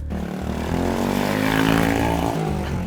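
A loud motorcycle engine drones close by and rises slightly in pitch as it passes, a steady rumbling roar throughout.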